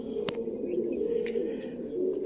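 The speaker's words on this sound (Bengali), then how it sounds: "দেখুন পায়রা একদম পিওর কোয়ালিটির পায়রা, মালবাহী একদম পিওর কোয়ালিটির মালবাহী পায়রা।" Carrier pigeons coo close by in soft, low, continuous murmurs, with a few faint chirps and clicks.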